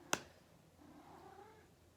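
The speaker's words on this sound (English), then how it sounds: "If you heard that, my cat was saying hello." A house cat gives a single short meow near the start, followed by quiet room tone.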